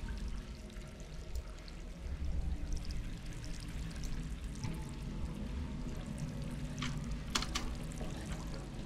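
Steady running water in the game Stray, a soft continuous pouring stream heard alone at low level, with a few faint clicks near the end.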